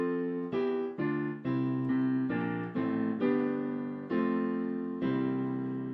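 The first rundown lick from a song: about nine clean, sustained notes or chords struck one after another in a stepping sequence, each ringing and fading before the next, played alone with no talking.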